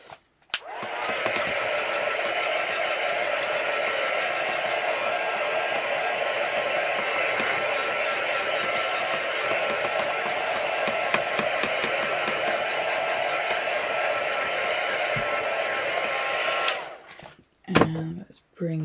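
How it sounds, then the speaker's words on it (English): A hair dryer drying paint on a mixed-media craft piece blows a loud, steady whirring hiss for about sixteen seconds, starting and stopping abruptly, with a few brief clicks and handling sounds at the end. "And then let's just dry that off."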